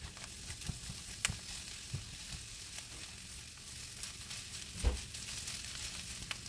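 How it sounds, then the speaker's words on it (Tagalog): Onion sautéing in a pan while making tofu fried rice, a soft continuous sizzle with scattered pops and a couple of louder scraping stirs, no voices. "Isunod na igisa ang onion hanggang lumambot."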